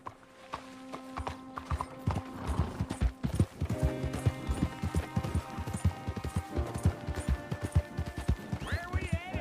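Rhythmic hoof clip-clops of a horse galloping in the video game Red Dead Redemption 2, with occasional whinnies, jingling tack, and a musical score mixed in throughout.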